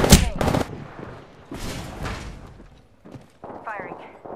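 Gunfire in the Apex Legends video game: several sharp shots and short bursts come through, mixed with game effects and voices talking over the action.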